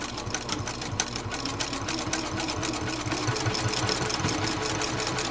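A sewing machine stitching fabric runs with a fast, steady mechanical chatter, close and continuous, with no voices.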